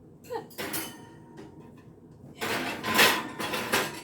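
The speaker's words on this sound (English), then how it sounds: "I'm going to put one rack up real high" Metal oven rack sliding and clanking as it is shifted to a high position inside a home kitchen oven, a few scraping, rattling bursts with a louder cluster of clatter near the end.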